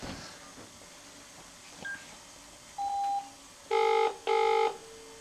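Telephone keypad dialing a number, a few faint single tones followed by two loud, clear touch-tone beeps, close and alone with no talking.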